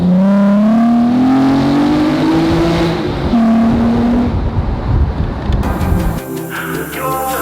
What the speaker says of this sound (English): You can't try a new exhaust without going through a tunnel first.